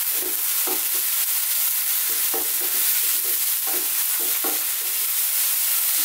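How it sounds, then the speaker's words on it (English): Mushrooms, garlic and tomato pasta are tossed in a hot pan over high heat, giving a steady loud sizzle broken by repeated scraping stirs and soft knocks throughout. "let's throw this around in the pan"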